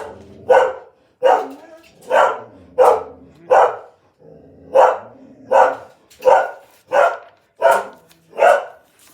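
Dogs bark indoors in a regular series of about eleven sharp, loud barks, evenly spaced with short pauses between them and a faint growl under a few.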